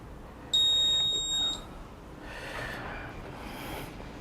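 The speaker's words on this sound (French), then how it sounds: "Donc là je vais éteindre jusqu'au bip." A single loud electronic beep from a GeoRide 2 GPS tracker on a Honda CB650R motorcycle switching off holds for about a second, then cuts off, leaving faint rustling and handling noise.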